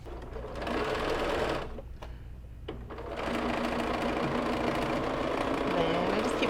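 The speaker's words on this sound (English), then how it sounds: "I'm going to come back over to my sewing machine, and I'm just going to keep stitching the same way I stitched before," A sewing machine stitches a piping seam closed, running in a steady close mechanical whir that pauses briefly, then starts again and carries on evenly.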